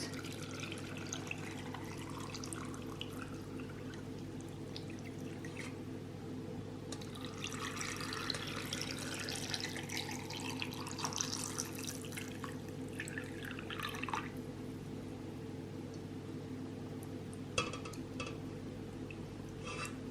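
Cooled water poured into a jar of cornelian cherries for pickling, a soft trickling and splashing over a constant low hum, faint and close, with a few light clinks.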